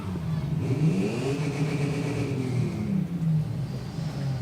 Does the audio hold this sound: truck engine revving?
yes